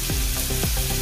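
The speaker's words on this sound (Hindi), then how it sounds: "अभी अच्छे से फ्राई हो गए हैं घी में।" Steady, close sizzling of food frying in hot ghee, a continuous crackling hiss with small pops and no voices.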